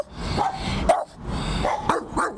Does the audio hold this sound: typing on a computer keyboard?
no